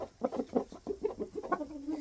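Roosters cluck in quick, uneven bursts of short calls, close and moderately loud, with no speech.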